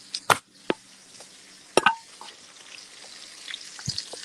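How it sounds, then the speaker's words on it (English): Clicks and clatter of cooking over a soft hiss of frying in a pan, with a few sharp knocks and scrapes scattered through. "Oh, I can hear them sizzling"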